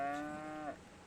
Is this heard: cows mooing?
yes